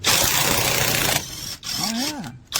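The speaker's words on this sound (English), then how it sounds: "You can take off your old lug nuts here on the old Dodge" A Trivd Frol impact wrench hammers loudly at torqued lug nuts on an old Dodge, a dense rattling burst that stops abruptly, followed by a short voice.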